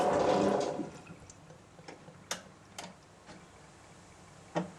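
A Whirlpool AWM8143 1400rpm front-loading washer fills with hot and cold water: a rushing hiss of inflowing water for the first second fades away, followed by sparse, soft clicks of the timer advancing.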